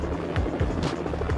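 A helicopter in the Jackie Chan Stuntmaster video game gives off a steady rhythmic rotor chop, with pulses repeating every quarter second or so at moderate volume.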